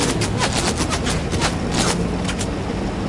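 Gunshots fired at Santa's sleigh, a quick run of sharp cracks in a fast irregular volley over a steady rumbling background, fairly loud and continuous throughout.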